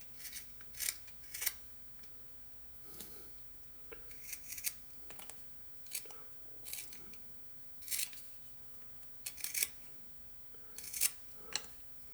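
A knife carves wood while a small mountain lion figure is whittled, making a series of short dry scraping cuts at irregular intervals, close and fairly quiet with no talking.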